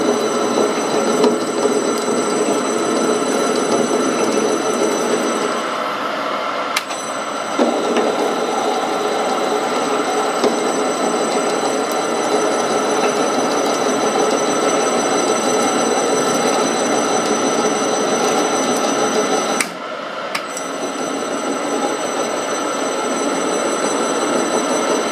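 A Grizzly G0752 lathe runs with its spindle at 114 RPM, giving a steady close mechanical hum and whine with high tonal ringing. Two brief dips break the drone, and no one speaks.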